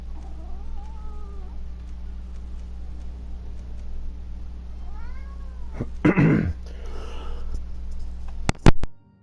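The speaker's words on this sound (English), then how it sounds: "so a bunch of cat here." Several cats meowing in the video game Greedfall, scattered rising meows over a steady low hum, with a louder cluster of cries in the middle and a couple of sharp bursts near the end.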